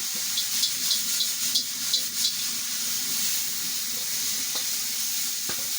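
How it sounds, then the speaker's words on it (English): Spices including cumin powder sizzle steadily in a pan for a spicy chapati roll filling, with a few light stirring scrapes early on over the continuous frying hiss. "Give that a stir."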